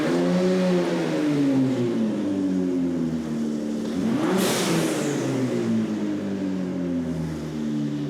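A 2018 Ford Raptor with a new exhaust revs up sharply from idle, peaks with a loud roar and a burst of exhaust rasp, then falls back to a low burbling idle, heard close up.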